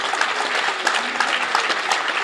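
Steady applause from an audience at a public meeting in Dokkum, dense and even clapping that fills the whole moment without a break.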